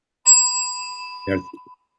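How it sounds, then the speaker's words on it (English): A timekeeper's bell at a school board candidate panel is struck once, a bright ringing tone that decays slowly, followed by a short burst of speech near the end. "When there are 30 seconds left in time, Rayanne will ring the bell once."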